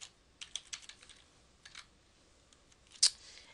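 Sparse, quiet keystrokes on a computer keyboard while a note is typed, with short bursts of clicks, pauses between, and one sharper, louder tap near the end.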